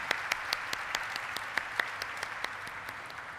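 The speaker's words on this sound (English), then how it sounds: "Let's give a huge, thunderous round of applause for him," Moderate audience applause at the listing ceremony of Allied Blenders and Distillers Limited, an even bed of clapping with a few distinct louder claps standing out, heard at some distance.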